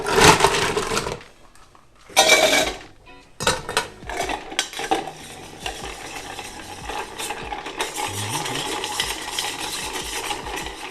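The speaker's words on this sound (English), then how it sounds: "And then just stir it up" A metal spoon clinks and swirls rhythmically against a glass as a drink with menthol notes is stirred, bright tinkling bursts with brief pauses, close and fairly loud.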